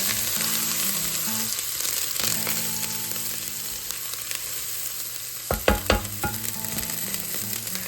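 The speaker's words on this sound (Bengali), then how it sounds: "এটা দিয়ে দেওয়ার পরে আমি আমার আদা রসুনটা দিয়ে দিলাম এটাকে একটু ভেজে নেব" Ginger and garlic frying in oil, a steady close sizzle with a low hum under it, then a cluster of sharp spoon scrapes and knocks against the pan toward the end, no voices.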